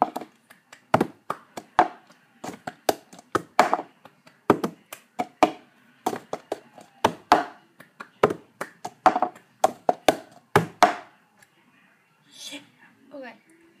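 Hands clapping and a cup tapping and thumping on a table play the cup song rhythm, a close, crisp run of sharp percussive hits in a repeating pattern that trails off into a few softer knocks near the end.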